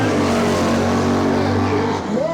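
Drag car at Hot August Nights 2024 revving hard with the throttle hammered and a tire spinning, a loud sustained engine roar close by, rising slightly near the end.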